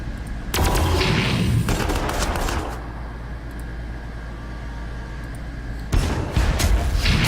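A tank in Warhammer 40,000: Armageddon fires, producing loud booming blasts with rumbling gunfire bursts, one long burst early, then a quieter lull and another heavy burst near the end.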